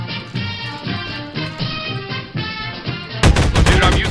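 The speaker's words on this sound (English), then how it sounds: "With all the gunfire," Rapid bursts of gunfire from Half-Life 2 Deathmatch crackle over a musical background, growing louder and denser in the last second.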